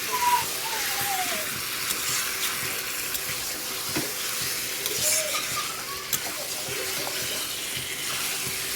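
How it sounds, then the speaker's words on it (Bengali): Chicken sizzles in a frying pan while being stirred, a steady close hiss broken by occasional scrapes and soft clinks of the utensil, with no talking. "ঠিক আছে, আমি চিকেনটা নেড়েই যাচ্ছি, বেশ ভালো করে নাড়াচাড়া করে দিয়ে"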